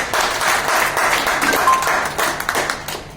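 An audience at a wellness and business event bursts into loud applause, with dense clapping that pulses and swells for a few seconds before thinning out.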